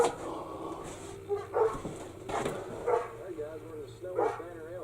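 Dogs bark in short bursts a little way off, several separate barks and yips over a low background hum.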